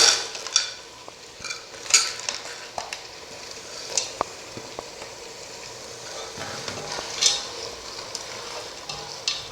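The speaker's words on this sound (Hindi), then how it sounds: "अब इसमें हम मटर डाल देंगे" Frozen peas are tipped into a vegetable pulao and stirred in the pot, with quiet sizzling, sharp metallic clinks and scrapes of a spoon at irregular intervals, close by and with no speech.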